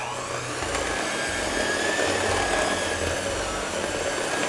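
An electric mixer whirs steadily through banana bread batter with whole-fat buttermilk, a continuous even motor drone with a low hum that holds its level throughout.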